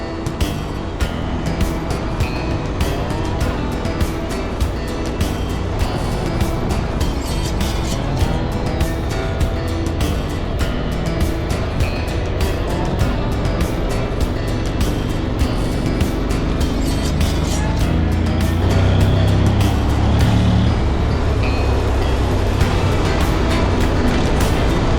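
A motorcycle rides along a frosty mountain road in Valais toward the Grande Dixence dam, giving a steady broadband engine and wind roar throughout with no clear pauses.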